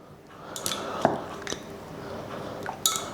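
Melted chocolate stirred in a bowl: quiet, soft scraping and a few sharp clinks of a utensil against the bowl, spaced irregularly, with no talking.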